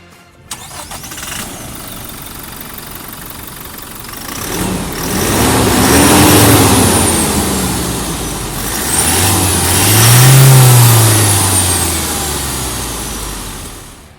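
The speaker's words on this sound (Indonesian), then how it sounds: "sekarang kita pengen denger dulu suara mesinnya kayak apa sih yang udah di remap. Yuk kita startup dulu." A remapped Toyota Fortuner diesel SUV engine cranks and catches, then settles into a rumbling idle before revving up twice in long swells, loud and close.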